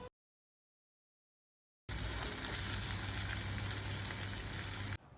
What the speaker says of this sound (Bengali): মাছটাকে একটু ভালো করে কষিয়ে নিলাম